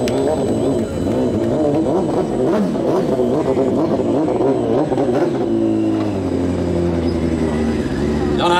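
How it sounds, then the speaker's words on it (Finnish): A Suzuki custom motorcycle with a 1441 cc engine revs loudly as it rides onto a bike show stage, its engine note rising and falling steadily throughout, with a crowd hall's background noise underneath. "nyt tulee semmonen fillari lavalle, missä asennetta piisaa. Pyörä numero 63, Mad Mike, Suzuki, 1441 kuutiosenttiä"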